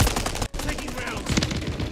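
Rapid gunfire from Call of Duty Modern Warfare 3 multiplayer, a steady stream of shots with a brief gap, fairly loud and dense throughout.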